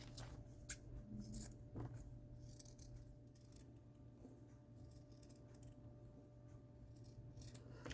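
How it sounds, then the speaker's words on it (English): Scissors snip quietly through felt in a few sparse, crisp cuts against a soft low background hum. "And now I'm going to cut these out with the scissors."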